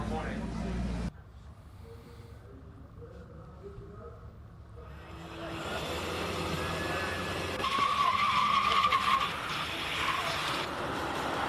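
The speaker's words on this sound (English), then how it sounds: "That is a lot of braking from that Suzuki Swift." A Suzuki Swift brakes hard during hill climb qualifying, with tyre skidding and engine noise rising from about five seconds in and a bright squeal near eight seconds, over outdoor crowd murmur and speech.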